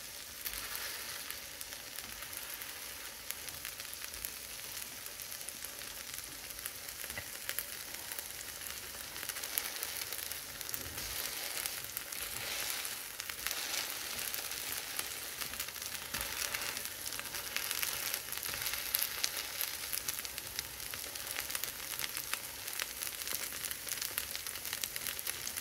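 Mixed pulse and millet dosa batter cooking on a hot pan, a steady, close, continuous hiss and crackle of sizzling that holds evenly throughout with no talking.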